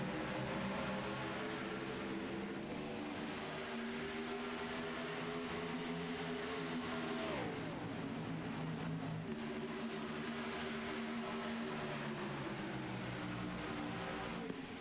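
NASCAR Cup Series stock cars at Kansas in 2007 accelerate on a restart, a steady distant engine roar that holds throughout, with one car's pitch sweeping down as it passes midway, faint and without talk.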